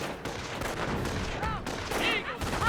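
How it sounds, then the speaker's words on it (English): Captured MG42 machine gun firing steadily in a Company of Heroes battle, a continuous rattling burst running under busy wartime game ambience with chirps and effects layered on top. "MG42 captured there, firing away, keeping distance from the Pinto mounts."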